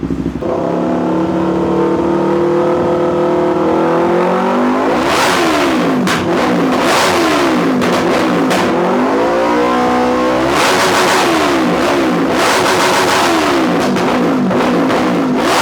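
Kawasaki Z500 motorcycle fitted with an SC Project full-system exhaust, revved hard in repeated loud bursts that climb and fall, close to the microphone, with no talking.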